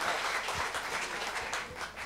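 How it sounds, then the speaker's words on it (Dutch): Audience applause at a late-night Dutch tech show event, steady broadband clapping from a crowd that holds evenly for about two seconds without voices. "Dames en heren, hartelijk applaus voor Ramsey Bolton."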